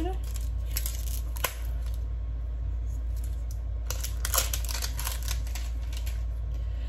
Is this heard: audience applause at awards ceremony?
no